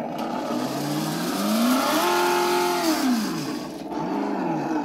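An RC car's electronic engine sound module revs up and down, a synthetic motor whine rising in pitch, holding, then falling and rising again, loud and close with no talk.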